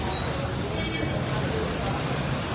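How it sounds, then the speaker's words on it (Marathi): A private company bus idles at a congested stop in heavy roadside traffic, with a dense, loud wash of engine and road noise and distant crowd babble. "हे बघा पुढे थांबली बस, आता ही पुढे येऊन थांबणार, त्याच्या मागे अजून 10 बस थांबणार"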